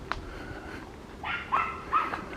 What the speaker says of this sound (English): Little yappy dog there.